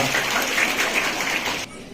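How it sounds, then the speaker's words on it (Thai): An audience at an International Day of Persons with Disabilities event in a hotel in Chumphon, Thailand, applauds in a brief, dense burst of clapping that stops abruptly near the end. "ขอเสียงปรบมือด้วยครับ"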